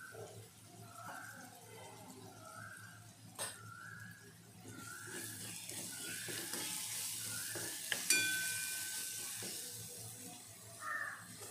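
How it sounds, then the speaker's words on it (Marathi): Garlic and green chili sauté in a pan before turmeric goes in, for a potato and curd curry. A steady soft sizzle runs throughout, with a few sharp clinks of a spoon striking the pan, and no talking. "आपल्याला एवढंच परतवायचं की त्याच्यातलं लसूण आणि मिरचीतलं कच्चपणा निघून जाईल।"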